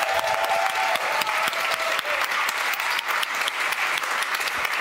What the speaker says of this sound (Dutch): Geef een warm applaus, Don Zeder.